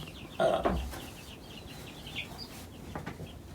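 Backyard flock of chickens, including Black Copper Marans and Red Ranger hens, with one loud nearby cluck burst followed by fainter scattered clucks and chirps over a quiet background.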